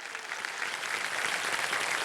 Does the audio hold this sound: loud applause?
yes